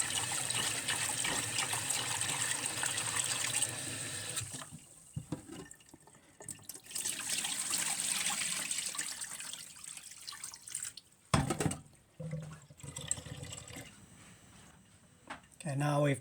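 Water splashes and swirls as rice is rinsed in a bowl, in bursts with brief pauses, while a person talks.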